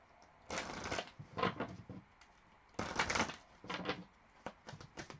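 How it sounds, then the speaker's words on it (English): A deck of tarot cards is shuffled by hand in two bursts of quick, crisp riffling with short pauses between, close and fairly quiet, with no talk. "Let me shuffle this a bit better."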